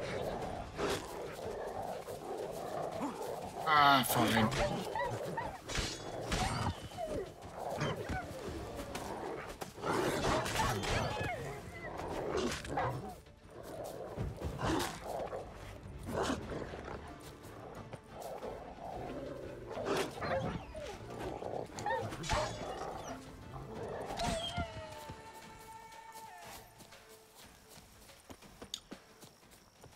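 Dogs in the Witcher 3 Blood and Wine game world bark and growl in scattered bursts, mixed with footsteps and hoofbeats, while someone talks quietly over the game sounds.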